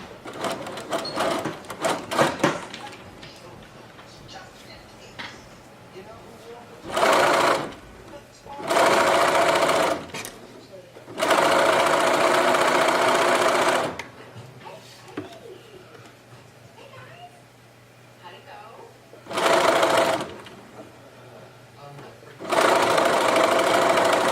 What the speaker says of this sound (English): I'm sewing the seam on our turtleneck